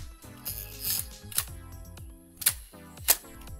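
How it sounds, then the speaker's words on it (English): Camera shutter on manual mode set to half a second, several sharp mechanical clicks of opening and closing spaced through the clip, close and crisp with quiet handling noise between. "it'll be a little bit easier to see the shutter open"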